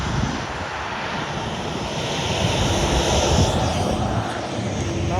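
Boeing 737 jet engines roar as a broad steady wash of noise, loud and continuous, heard from the ground near departure.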